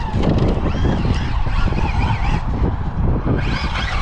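A Maverick Quantum RX Flux 4S 1/8-scale 4WD RC rally car drives hard, its electric motor whining loudly up and down in pitch over continuous close rumble and road noise.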